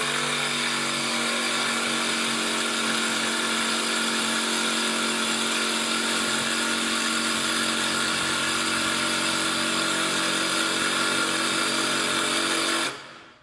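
A jigsaw cuts steadily through a piece of wood, a loud continuous buzzing whine that holds at even strength for about thirteen seconds before stopping abruptly at the end, with no talk over it.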